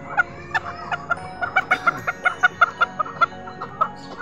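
A hen in the middle of laying eggs gives a close, steady run of short, sharp clucks, some twenty in about four seconds, with a faint low murmur behind them.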